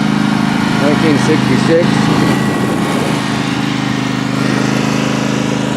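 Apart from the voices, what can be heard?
lawn mower running nearby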